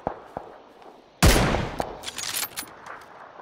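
Gunfire from the video game PUBG: a single sharp, loud shot crack followed by a decaying rumble, with fainter scattered pops before and after, no talking.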